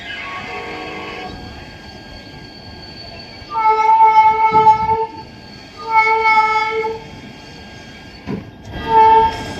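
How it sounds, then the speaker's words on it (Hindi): Train horn blasts from a train approaching on an intersecting track, heard from aboard the Saharsa Humsafar Express, several long two-tone honks in separate bursts, fairly loud over a low rumble. "आगे एक और ट्रेन आ रही है शायद जो इसके ट्रैक को इंटरसेक्ट कर रही है।"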